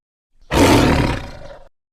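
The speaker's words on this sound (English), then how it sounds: "T-I-G-E-R, tiger." A single loud tiger roar, harsh and broad, bursts in and holds for about a second before fading out, with no other sound around it.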